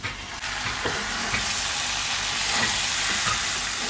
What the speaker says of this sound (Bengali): এবার আমি ভাজা মাংসটা দিয়ে দেবো